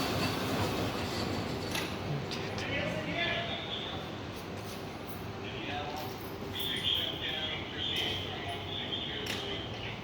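A southbound light rail train rumbles steadily as it pulls away from Central LRT Station, with a rising electric whine and faint squeals, while people talk nearby.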